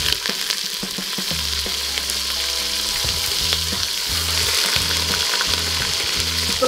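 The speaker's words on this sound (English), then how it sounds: "So, sear muna natin yan." Beef shanks sear in a hot pan at an outdoor cooking setup, a loud, steady sizzle filling the scene from start to finish with no talking.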